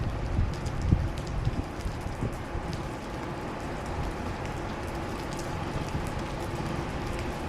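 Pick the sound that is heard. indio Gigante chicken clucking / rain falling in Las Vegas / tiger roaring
rain falling in Las Vegas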